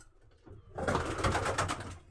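Pigeons in a loft coo close by, a soft low murmur that swells into a louder, fuller burst of cooing and rustling partway through.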